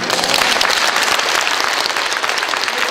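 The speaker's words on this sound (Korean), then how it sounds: "박수 주셔요" Congregation at a Korean Presbyterian church mission report bursts into steady, dense applause that fills the room evenly throughout, loud and continuous with no speech over it.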